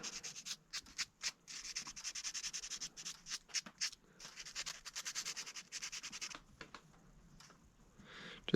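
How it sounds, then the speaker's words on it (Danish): A red spot is sanded off a workbench in a garage by hand. Quiet, rhythmic rubbing strokes follow one another in an uneven back-and-forth pattern, close by and fairly soft, with no talking. "lad os da prøve og se, om man ikke kan slibe det lidt væk måske"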